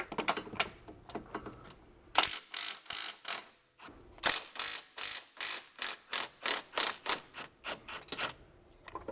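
A ratchet loosens the subframe bolts on a BMW E90 M3, giving rapid rhythmic clicking bursts, sparse at first and then dense, evenly spaced and close.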